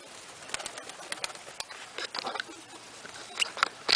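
Racing pigeons flutter and flap nearby in scattered bursts of wingbeats, with a few soft coos and light rustling in between.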